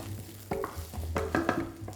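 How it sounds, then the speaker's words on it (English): Onions frying in hot oil in a pan, a steady close sizzle with a few scraping stirs and clinks over the hiss, no voices. "heat up the oil with the pan. In with the onions first"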